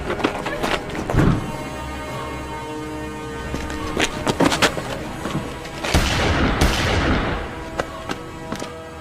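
Gunfire in a Hindi-dubbed Hollywood action movie: several sharp, loud shots and thuds crack out in bursts over a busy soundtrack, with a bigger blast-like burst near the end.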